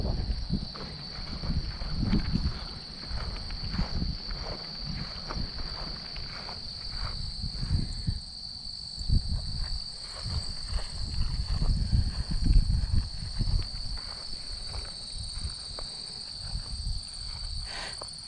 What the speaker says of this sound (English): A lot of crickets and grasshoppers.